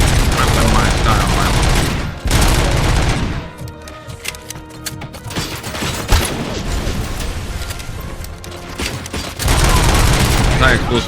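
Gunfire from anti-explosive rounds in the Robocop video game, heavy dense bursts of shots loud at the start and end with a busier, mixed stretch of firing and mechanical clatter in between.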